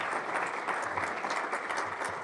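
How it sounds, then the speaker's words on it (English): Sustained applause from an audience at an Economic Club of Minnesota event honoring an ambassador, steady dense clapping filling the room without a break. "let's give Ambassador Green one more round of applause"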